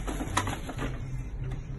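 Loose mechanical parts rattle inside a printer that stopped working after a power cut, a few light clicks and taps over a constant low mechanical hum, close up.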